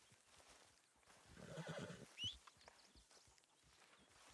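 A Missouri Fox Trotter horse in a video game gives a single agitated neigh in a camp setting, fairly faint and brief, with soft hoof clip-clops around it.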